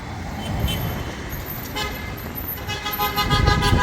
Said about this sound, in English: they will beep their horn all the time